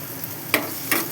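Onion with curry leaves sizzles and fries in a pan for a mung bean curry. The soft continuous frying hiss is broken by two brief scraping stirs of a spoon.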